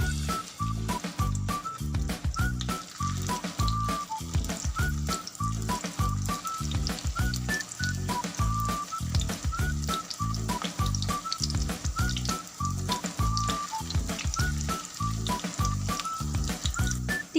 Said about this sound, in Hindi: ऑयल हमारा गर्म हो चुका है, अब हम टिक्की फ्राई कर देते हैं।